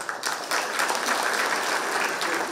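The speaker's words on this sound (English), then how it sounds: "a big round of applause to Asik" Audience applause at a talk, a dense steady wash of many hands clapping that swells in after a brief start and holds evenly throughout.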